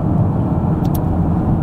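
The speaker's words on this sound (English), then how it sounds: "I'm just listening to my car." A car driving, heard from inside as a steady, continuous low rumble of road and engine noise at even loudness, with no talking.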